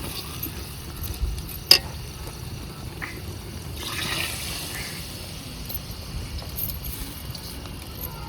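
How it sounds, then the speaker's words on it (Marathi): Water is poured into a biryani pot set over a wood-fired stove, a faint, brief rush of liquid midway through, heard against quiet outdoor background noise. "आता यात पाणी टाकून घ्यायचं या."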